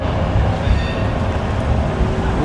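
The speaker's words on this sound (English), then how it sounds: "Was that the blue or yellow tram?" A tram rolls past on the street in Sheffield, a loud, steady rumble and rail noise that holds for a few seconds without talk.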